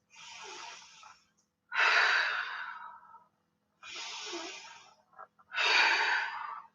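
Deep yoga breathing during a floor flow: two slow cycles of long inhales and fuller, louder exhales, close and clear, with near silence between breaths and no talking.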